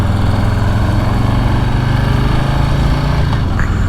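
A Harley-Davidson Street Bob 114 motorcycle engine runs loud and steady up close, its low throbbing drone continuing through a gear shift, with no voices over it.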